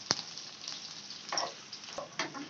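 The white part of green onion sautés gently in a pan, a soft, faint sizzle broken by a few light scraping taps of a stirring utensil, close and quiet with no talk.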